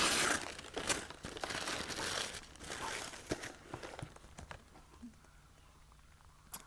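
Christmas gift box wrapped in paper being unwrapped by hand, with close, busy crinkling and tearing that gradually thins into sparse, quieter rustles.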